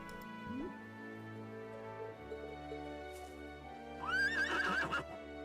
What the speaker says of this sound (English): Kodan's practicing to ride a horse.